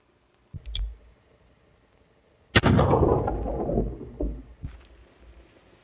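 Gunfire in an old western film: a short crack, then after a pause a loud, booming shot with a long rumbling echo and a fainter follow-up report.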